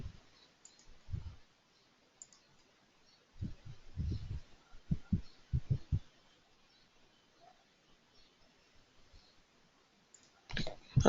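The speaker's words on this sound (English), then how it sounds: "I'm clicking on OK." A computer mouse is clicked during a software tutorial, with faint, sharp clicks arriving in small scattered bursts in an otherwise quiet room and no talking.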